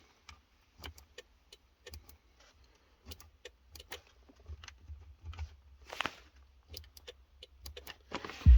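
Faint, sparse clicks from a different radio control in an early 2000s car, spaced irregularly over a low background hum, with a heavier thump at the end.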